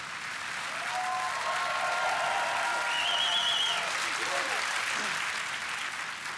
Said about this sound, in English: The audience gave her a cheer, like a rock star for a British Northern Ireland Secretary of State